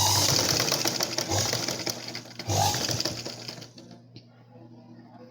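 A sewing machine stitches a blouse along a marked line, its loud rapid rattling drone running for several seconds before stopping abruptly, leaving near silence.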